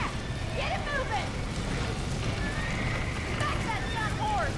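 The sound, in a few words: horse neighing and galloping in Red Dead Redemption video game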